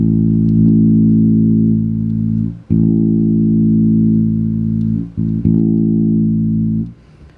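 Sustained low bass guitar notes through a Hartke HA2500 amp with mid-range adjusted, warm and full, played in three long held phrases with short gaps between.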